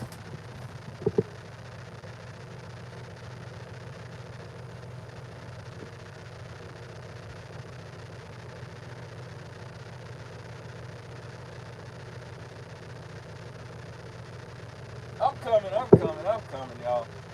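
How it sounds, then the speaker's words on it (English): A truck engine idles steadily at low pitch throughout, with a fainter rumble beneath, while a few short clatters and knocks break in near the end. "I don't know why my truck sounds like this"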